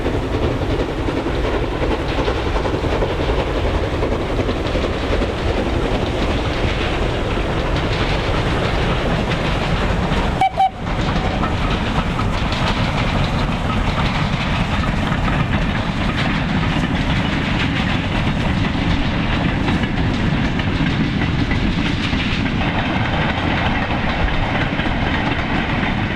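A steam train rumbles past over Horncliffe on the East Lancashire Railway with steady rhythmic chuffing and clanking of rolling wagons, loud and continuous with no voices.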